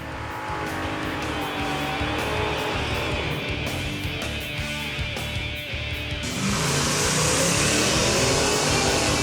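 Drag racing car launching hard off the line at a drag racing game show, a loud sustained engine roar that swells as it shifts through the gears, with a brief bobble around the gear change.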